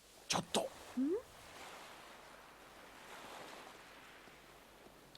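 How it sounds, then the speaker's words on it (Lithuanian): Sea waves washing in a steady, soft rush of surf at a moderate distance, with a few brief tonal chirps at the start and one more at the very end. "Jūra, ji tokia didelė."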